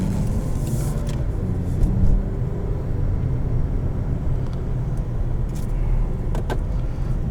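Interior drive in a 2021 Jaguar XF P300 R-Dynamic SE: steady low road and engine rumble holding even throughout, with faint brief clicks and rattles from the cabin, no talking.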